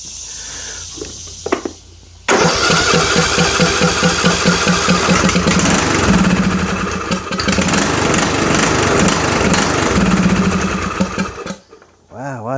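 A secondhand lawn mower engine, revived with carburetor cleaner after major problems, fires up for its first start after a quiet pause, then roars loudly and unevenly close by with a rough sputtering rhythm.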